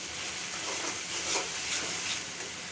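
Egg masala spices fry in a pan with a steady, close sizzle and hiss, rising and falling slightly as they are stirred, with no voices.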